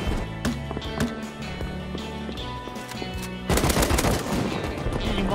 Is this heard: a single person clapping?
no